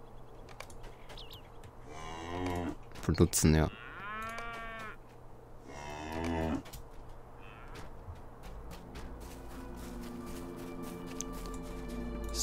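Cows moo in the video game Lord of the Rings Online on a farm, several long drawn-out lowing calls at moderate volume with brief clatter between them, and someone speaks briefly over the scene.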